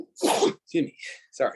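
A single sneeze from a man, close and loud, followed by him briefly apologizing in speech.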